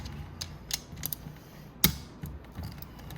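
Tight, torqued head bolts on a Venom 125cc engine are struck with a tool: a handful of sharp, close metallic taps spaced irregularly, one noticeably louder than the rest, over quiet background.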